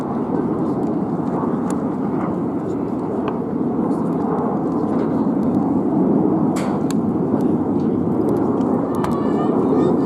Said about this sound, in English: As Red 1 comes into land, you'll see him touch down on the right-hand far end of the runway.